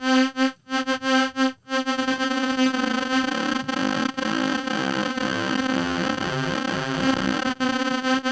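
Distorted, buzzy synth tone run through a Kilohearts gain effect whose level is modulated by an LFO: rapid choppy pulsing at first, then the LFO slows into a smoother, wavering warble that continues steadily.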